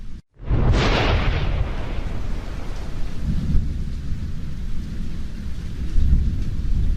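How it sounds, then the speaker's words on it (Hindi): Heavy rain pours down with rolling thunder, opening with a sharp loud crack and followed by a continuous dense downpour with deep rumbles swelling again near the end. "तभी तेज बारिश होने लगती है।"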